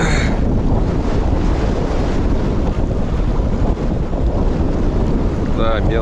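Strong wind buffets the microphone on a boat during spring fishing on the Akhtuba in the Astrakhan region. A loud, continuous roar runs throughout, with brief faint voices near the end.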